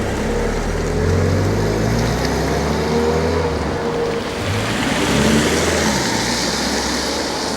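A 1996 MGF sports car pulls away outdoors in the dark, its engine a broad, rumbling drone that swells and shifts over several seconds with strong wind-like noise, fairly loud and steady, with no talk over it.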